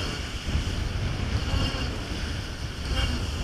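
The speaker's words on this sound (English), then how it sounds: "Surfing across the Southern Ocean." Clipper Race yacht surfing across big Southern Ocean swells, loud continuous rush of water and hull spray with heavy wind noise on the microphone, no voices.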